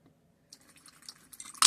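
A small toy gem drops into a plastic hand soap bottle, sparse light clinks and rattles building to a sharper bright clink at the end, close and quiet with no talking.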